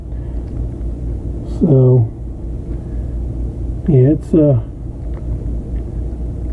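Heavy rain from Hurricane Ian pours as a dense, steady low roar beneath someone talking close to the microphone, continuous throughout with no breaks.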